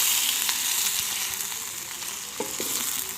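Desi chicken pieces frying in oil for karahi give a steady, close sizzle and hiss, broken by a couple of soft stirring knocks from a utensil, with no talking.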